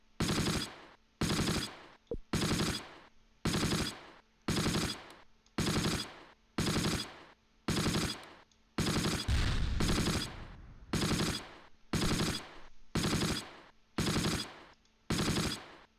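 Gunfire in the WWII video game Close Combat comes in regular, evenly spaced bursts about once a second, each a sharp crackling volley, with a heavier rumble partway through.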